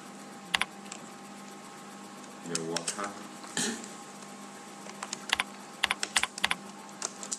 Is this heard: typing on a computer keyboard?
yes